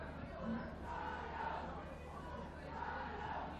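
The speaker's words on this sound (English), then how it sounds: "Now you can hear people cheering on." Village basketball crowd in Guizhou, China chanting Jiayou, rhythmic swells of shouting voices rising and falling at moderate distance over a murmuring crowd bed.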